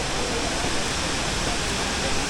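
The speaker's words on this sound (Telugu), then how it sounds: "చాలా హైట్ నుంచి వచ్చే వాటర్ ఫాల్ ఇదే." Broad rushing roar of the Aagaya Gangai waterfall in the Kolli Hills, a wide fall dropping from great height, steady and continuous with no break or talk.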